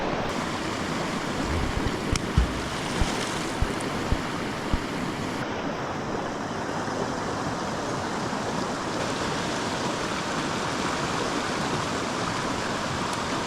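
Mountain river water rushes and churns steadily, a loud, dense, continuous roar with no pauses and no talking.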